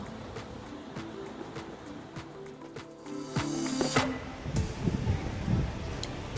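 Surf washing onto the sandy shore of Radhanagar Beach in the Andaman Islands, a soft continuous rush that swells partway through, with background music playing underneath.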